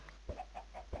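Repeated short clucks from chickens on a video game chicken farm, several quick calls in a loose rhythm against a steady low background hum.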